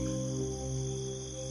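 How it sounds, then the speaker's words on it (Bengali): Steady, faint cricket chirping at night fills the whole stretch, a continuous thin trill with a low hum beneath it and no other sounds. "রাতের নীরবতা ভেঙে মাঝে মাঝে শোনা যায় ঝিঝি পোকাদের ডাক"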